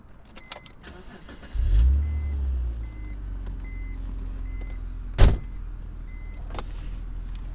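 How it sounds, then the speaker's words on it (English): A BMW 330Ci engine cranks and fires up with a rising roar, then settles into a steady, close idle, with a single sharp thump partway through and repeating chime-like beeps overhead. "Now, the engine doesn't always come right to life like that."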